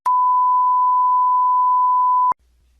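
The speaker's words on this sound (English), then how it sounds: "You should hear a 1020 Hz audio tone." An IFR 4000 test set plays a steady 1020 Hz VOR audio test tone through a cockpit speaker. The pure, unbroken beep holds for about two seconds and then cuts off abruptly with a click, leaving near silence.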